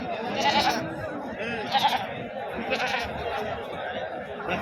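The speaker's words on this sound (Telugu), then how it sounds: "ఇది మేకల మార్కెట్" Several goats bleat in short bursts amid the murmur of a crowded goat market at Pebbair, with people chattering in the background.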